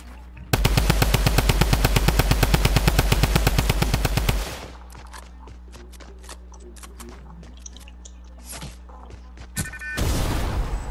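Rapid automatic gunfire in the video game Playground, a long loud burst of evenly spaced shots, then quieter clicks and scattered game sounds before a final noisy swell.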